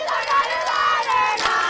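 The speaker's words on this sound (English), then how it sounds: "This is a big-time playoff softball crowd here tonight." A big crowd at a night-time high school playoff softball game between the Hernando Tigers and the GHS Mavericks cheers and shouts loudly in sustained, swelling waves, with many voices blending together.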